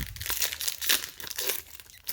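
Crinkly foil wrapper of a Magic: The Gathering booster pack torn open up close, a quick burst of sharp crackles and rips over about two seconds, no voices.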